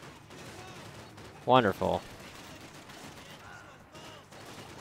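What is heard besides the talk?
gunfire from enemies shooting in video game Max Payne 3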